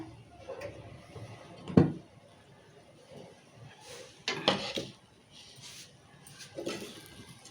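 A pan of wheat rava upma is lifted off a kitchen stove, with a sharp metallic clank, then several softer knocks and scrapes of the vessel spread over a few seconds in a quiet room.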